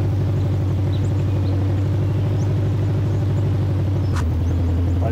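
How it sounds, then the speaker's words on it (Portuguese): A Dodge Charger R/T idles in Forza Horizon 3 with a loud, steady, lumpy low rumble that pulses rhythmically throughout, close and unbroken, with no talking. "Vou aumentar o volume no máximo aqui do jogo"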